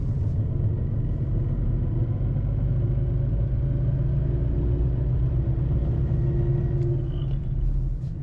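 A car engine pulls in third gear with a steady, loud low rumble and drone from inside the cabin, with vibration at around 3000 RPM and a faint rattle.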